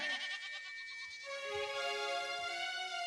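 A goat being dragged bleats in repeated wavering cries, with a second drawn-out bleat that is louder and closer, over quiet outdoor background.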